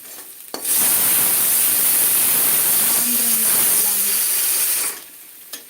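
A loud, continuous hissing blast of steam from a pressure cooker whistle lasts several seconds, then cuts off abruptly.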